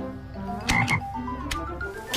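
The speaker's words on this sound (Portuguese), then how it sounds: "Virou sapo." A frog croaks in a few short, throaty bursts close by, spaced irregularly over a low background hum, with no voices.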